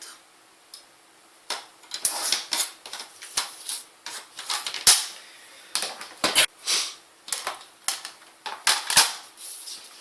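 Cardstock for a pop-up box card is cut in a string of short, sharp snips and crisp clicks, close by and quiet, spaced irregularly across the clip.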